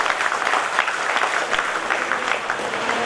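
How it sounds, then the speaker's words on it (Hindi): Seminar audience in a hall applauding, a dense steady patter of many hands clapping throughout, fairly loud and without speech. "जबरदस्त ताली हम सभी के लिए"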